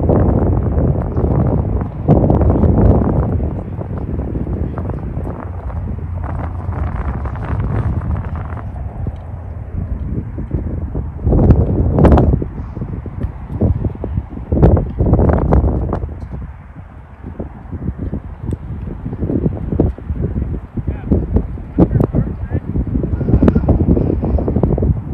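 Wind gusting across a golf course at Oak Quarry, a loud, rumbling buffeting against the microphone that rises and falls in waves throughout, with no voices.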